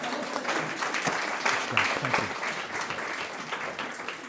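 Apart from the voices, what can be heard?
audience applause after a reading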